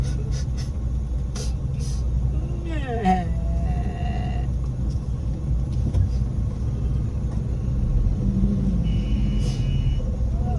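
Heavy road traffic rumbles steadily around a car on a morning drive, a continuous low engine and road drone with occasional passing vehicle noises and brief horn-like tones, while people talk inside the car.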